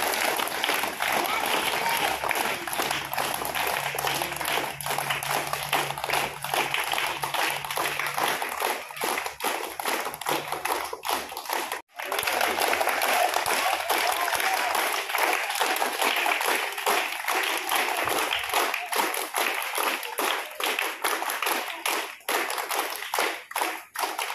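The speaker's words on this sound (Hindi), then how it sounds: "ताली बजाइए।" Children clap their hands in a government school classroom, a long run of brisk, uneven clapping from a small group nearby, with a short pause midway before the clapping resumes.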